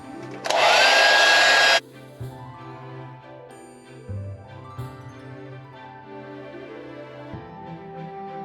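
A heat gun blows hot air onto a PVC pipe to soften and bend it into a saw scabbard, giving a loud steady rushing blast for about a second before cutting off, with music continuing underneath.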